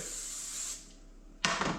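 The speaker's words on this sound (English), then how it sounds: "all you do is you put some non-stick cooking spray" Non-stick cooking spray is sprayed onto a frying pan in a short, close aerosol hiss that fades, followed by a second brief burst of spray.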